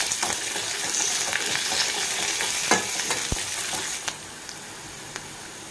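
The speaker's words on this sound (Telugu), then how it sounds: "ఎర్రగడ్డలు ఫ్రై అవుతున్నప్పుడే మనం తీసుకున్న కరివేపాకు యాడ్ చేసుకొని" Onions fry in oil with curry leaves for a broad beans curry, a continuous hiss and sizzle marked by scraping stirs and occasional taps of the spoon on the pan.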